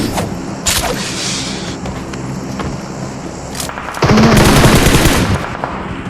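Gunfire in the video game PUBG Mobile, with loud bursts of rapid automatic shots and single cracks, ending in a dense sustained volley.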